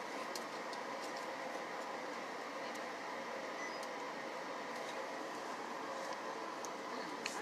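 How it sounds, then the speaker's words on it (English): Interior of a moving passenger train, like a Long Island Rail Road car, with a steady rumbling hum and faint rhythmic clicks throughout, fairly quiet and even, with no voices. "This train reminds me of the Long Island Railroad train I used to take religiously when I was in New York."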